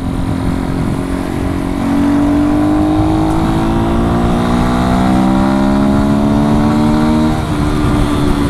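A 125 cc motorcycle accelerates hard, with rising engine tones climbing steadily through the gears, close and loud with continuous wind noise throughout and no speech.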